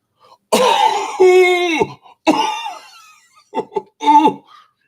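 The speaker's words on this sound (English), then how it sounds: "Or if it's not that, they're coughing." A person coughs and clears their throat in several close, separate bursts with short pauses between them.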